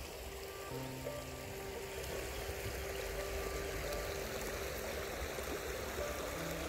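Shallow village stream water flowing steadily, a soft continuous trickling wash heard alone at low level with faint tonal hum in the background.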